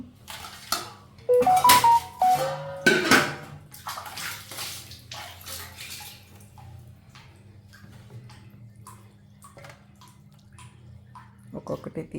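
Running water splashing as lobsters are washed clean, with louder bursts and clatter early on and a quieter trickle and splashing afterward.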